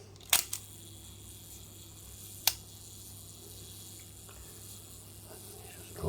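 Topcon Unirex 35mm SLR with a leaf shutter: two sharp mechanical clicks as the self timer is set, a faint whirring pause, then a crisp single shutter release, close and clear in a quiet room.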